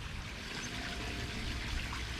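Pond water pours into a bucket from a koi pond, a steady close trickle and splash that runs without a break and without speech.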